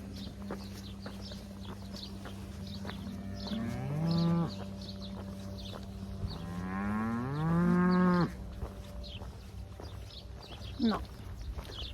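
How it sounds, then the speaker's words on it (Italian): Cows moo loudly in two long calls, one short and one drawn out, in an open countryside setting along a coastal walking route, with faint outdoor background noise. "mucca,"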